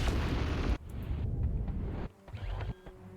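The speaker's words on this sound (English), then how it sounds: "Make things blow up." Video game explosions as things are blown up, a loud booming burst that cuts off abruptly, followed by further rumbling blasts and debris of varying strength, with no talk.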